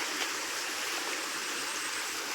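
A village stream with its water level now very low flows steadily nearby, a soft continuous rushing and trickling with no talk.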